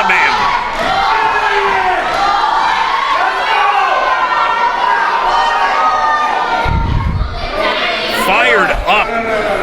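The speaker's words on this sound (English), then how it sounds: "And listen to this crowd." Wrestling crowd at an ETWA show roaring and chanting loudly for Mullet Man, excited shouts and cheers filling the venue throughout, with a commentator talking over the noise.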